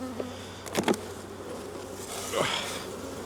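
Honey bees buzzing around an open hive box full of brood and nurse bees, a steady low hum with a few closer bees zipping past the microphone, heard alone.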